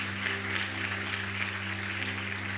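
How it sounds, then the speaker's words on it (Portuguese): A church congregation applauding in a worship service, a dense, steady wash of clapping from many hands over a low sustained musical drone. "Você pode aplaudir a Jesus pela vida da minha esposa?"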